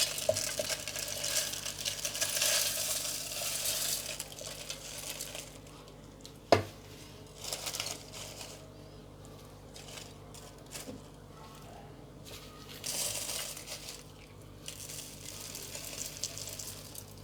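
Whole garam masala spices pour into a dry mixer jar with rattling, scattered clatters, including one sharp knock partway through, over a quiet kitchen background.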